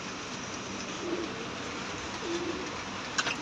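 Pigeons coo faintly from a Faisalabad rooftop during a pigeon-flying contest, two soft low calls standing out over steady outdoor background noise, with a brief sharper sound near the end.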